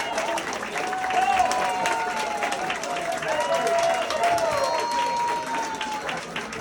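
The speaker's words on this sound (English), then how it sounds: "Så ge en stor applåd till nästa komiker." Audience applause for a comedian at a stand-up comedy show, a steady broad wash of clapping from a crowd lasting throughout, with cheering and whistles on top and a host's voice faintly mixed in.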